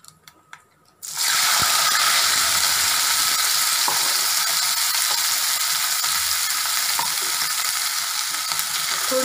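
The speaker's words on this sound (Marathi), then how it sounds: "आता तेल तापलेलं आहे, मी मोहरी घालते. हिंग आणि आता आपण ही मिरची यात घालणार आहोत." Bell peppers dropped into hot oil with mustard seeds and asafoetida burst into a loud, steady sizzle after a second of near quiet, frying continuously close up with faint stirring clicks.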